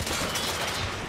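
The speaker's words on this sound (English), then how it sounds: "This pistol is crazy." Pistol shots in the third-person shooter The Order: 1886, a dense, loud burst of gunfire and combat noise filling the short moment with no talking.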